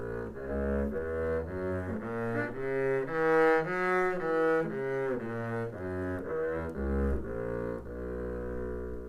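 A double bass bowing a B dominant seventh arpeggio, sustained notes moving step by step up and back down in a smooth, even line, played alone and clearly.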